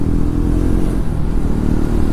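A Triumph Tracker 400 motorcycle is ridden, its engine giving a loud, steady low drone with a constant rumble throughout and no voices over it.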